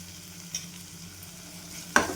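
Vegetables sauté in oil in a pan over a low gas flame, a faint steady sizzle broken by two light utensil knocks, with no voices.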